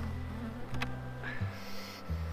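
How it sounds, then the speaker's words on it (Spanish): Honey bees buzzing close by in a hive given extra smoke, a steady drone whose pitch shifts slightly as individual bees move near. "para juntar esas abejas que quedan por los cuadros"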